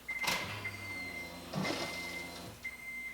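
A 340 LPH fuel pump primes in an 8th-gen Honda Civic while drawing air, heard as two brief whirring surges over a steady thin whine, close and fairly quiet.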